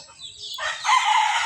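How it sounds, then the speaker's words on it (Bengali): A rooster crows in a village yard with many chickens, one loud close call rising after a quiet start and holding bright and strong to the end, with no talk. "এই যে মুরগি, আমাদের আলহামদুলিল্লাহ অনেকগুলা মুরগি আছে।"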